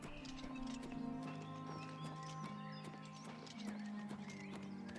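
Steady clip-clop of horse hooves trotting in the video game Oblivion Remastered over a continuous background hum and tones, the footfalls regular and fairly close throughout.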